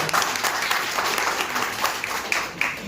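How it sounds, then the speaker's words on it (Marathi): Audience applauds the organisers of a health camp for journalists, a steady patter of many hands clapping at moderate distance, fairly quiet and continuous throughout. "या सगळ्या संयोजक मंडळीसाठी एकदा जोरदार टाळ्या होऊन जात्या"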